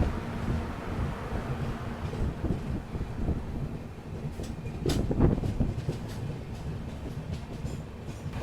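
Gondwana Express train running after a quick departure from a station in Maharashtra's Vidarbha region, a steady loud rumble of wheels and carriage noise with wind buffeting, a brief louder clatter midway, and no talking.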